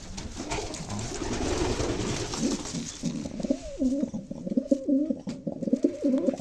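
Pigeons coo softly in repeated low, throaty phrases, with a steady background hiss and rustle and no talking.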